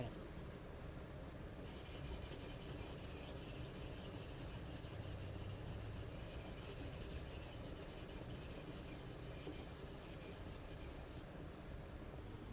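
A Yanagi knife is rubbed flat on a 600 grit whetstone, making a steady, continuous gritty scraping close by for about twelve seconds, with no pauses or talk.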